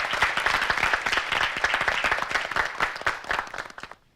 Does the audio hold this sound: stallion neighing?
no